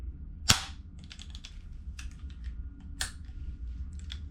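A Viper Tech M4 airsoft gas blowback rifle fires with a sharp, close crack, followed by a few quieter mechanical clicks and a second softer shot in a quiet room.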